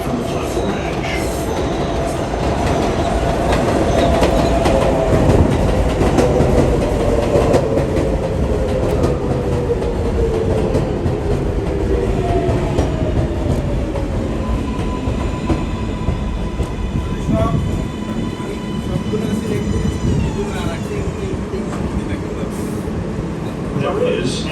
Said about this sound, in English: 7 train to Flushing Main Street. Approaching the station, please stand away from the platform edge.